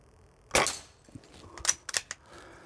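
A Diana Chaser air pistol fires one sharp, loud crack at a target, followed by a few quieter clicks and metallic taps of the impact and handling, with no talking.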